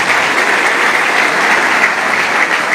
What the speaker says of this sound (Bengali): আর একটা জোরে হাততালি দাও